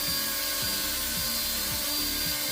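XK K170 Black Hawk brushless RC helicopter hovering indoors in a small room, a steady whirring rotor drone with a high motor whine and rhythmic pulsing blade wash, alone.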